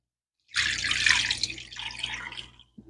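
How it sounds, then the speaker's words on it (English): Water is poured steadily into a pot of beef seasoned with garlic, bay leaves and salt, making a loud, close, continuous splashing that runs for about two seconds and then stops. "I'm going to add in enough water to cover my meat."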